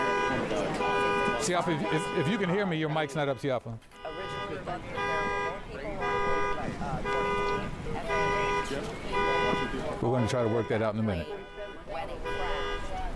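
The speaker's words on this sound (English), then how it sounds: "You can hear horns in the background. An alarm has been set off." At a live scene where an air ambulance crashed in Philadelphia, repeated car horns and a wailing alarm honk in rhythmic bursts in the background, while a news anchor talks over them.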